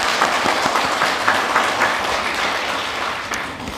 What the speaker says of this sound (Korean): 다시 한번 감사의 큰 박수 보내주시기 바랍니다